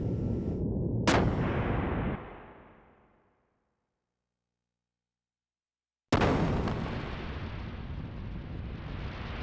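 A ship's cannon fires in the video game Xenogears: a loud booming blast rolls off into silence, then a second heavy burst erupts and rumbles on.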